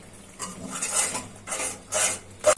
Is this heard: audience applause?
no